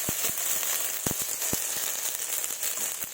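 Dry chilli, ginger and cumin paste frying in a pan, a steady dense sizzle with scattered sharp crackles and pops, close and continuous.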